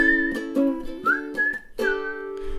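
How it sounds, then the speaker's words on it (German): A person whistles a quick, cheerful melody up close, clear bright notes in short phrases with brief gaps between them. "war mir klar, dass man auch ganz schnell auch pfeifen kann."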